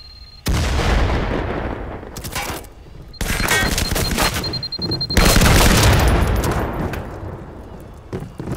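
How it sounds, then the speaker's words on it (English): Grenade blast in the tactical shooter Firewall Zero Hour: several loud, close booming detonations with heavy rumbling tails, separated by short gaps, mixed with brief gunfire and little talk. "Grenade!"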